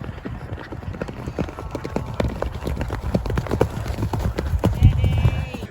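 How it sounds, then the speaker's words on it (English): Horses move about in a field, hooves clip-clopping in an irregular stream of thuds, fairly close, with someone talking over them throughout. "We've got horses in one."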